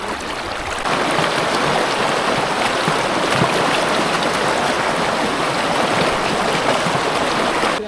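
Strong river current rushing over stones at a white-stone riverbed, a loud, dense, continuous wash of churning water close by.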